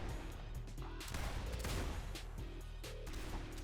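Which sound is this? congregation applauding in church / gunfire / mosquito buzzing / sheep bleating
gunfire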